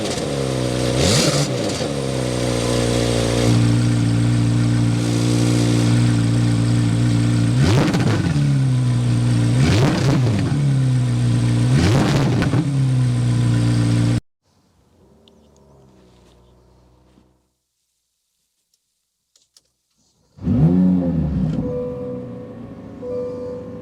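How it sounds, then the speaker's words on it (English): A 2024 Chevrolet Corvette Z06 mid-engine supercar revs its exhaust loudly and up close in a run of rising, roaring sweeps. After a near-silent pause, one more sharp rev blip follows. "so you can hear that exhaust note."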